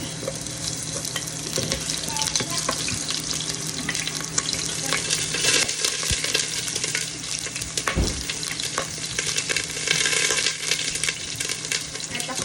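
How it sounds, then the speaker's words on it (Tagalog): Chopped onion sautéing in hot cooking oil for Bicol Express gives a steady, close sizzle with occasional scraping and clatter, and no talking. "uunahin ko po yung ating sibuyas. Dahil mainit na yung mantika."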